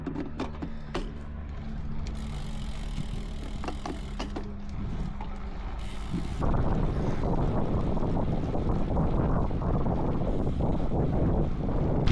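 Wind buffets the microphone during a solo road cycling ride, a rumbling roar that steps up sharply to a louder, fuller gust partway through and stays strong to the end, with faint clicks early on.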